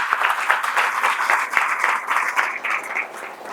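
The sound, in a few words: loud applause at satsang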